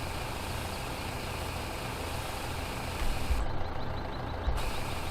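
Steady rumbling engine of a large truck idling in Farming Simulator 15, with a couple of low clunks and thumps partway through as the trailer makes unloading noises; no talking.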